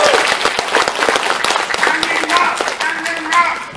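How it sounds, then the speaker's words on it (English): A convention crowd at a Mighty Morphin Power Rangers Q&A panel in Corpus Christi, Texas, breaks into a round of applause, with bright clapping that thins out over a few seconds as some voices and cheers rise above it. "Welcome to the Mighty Morphin Power Rangers panel, Corpus Christi, round of applause."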